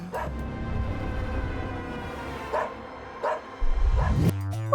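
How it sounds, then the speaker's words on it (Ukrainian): A dog gives a few short barks and yips, spaced irregularly over a steady low hum, with a louder bark near the end; no talking. "ще один милий песик"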